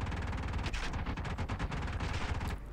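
Aircraft guns fire in the War Thunder Mobile video game as loud, rapid bursts of gunfire, nearly continuous for a few seconds before cutting off abruptly.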